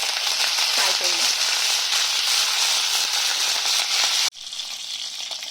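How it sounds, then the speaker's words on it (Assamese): Cauliflower pieces frying directly in hot oil, a steady dense sizzle and crackle that continues throughout, briefly cutting out and then resuming slightly quieter. "ফুলকবিৰ এনেকুৱা এটা ধুনীয়া কালাৰ অহালৈকে মই ফ্ৰাই কৰি ল'লোঁ।"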